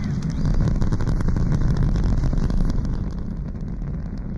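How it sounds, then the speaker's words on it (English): Rocket engines of the Eagle lunar module roaring at liftoff from the lunar surface, a steady, loud, dense rumble with no breaks. "With engines roaring, the Eagle blasts off from the lunar surface."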